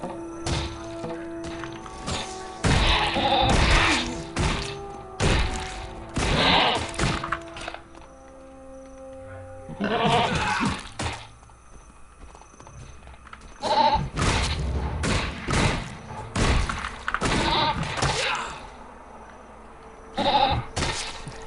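Longhorn sheep in the video game Guild Wars 2 bleating repeatedly while under attack, in loud bursts mixed with thudding hit impacts and game effects, broken by short quieter gaps.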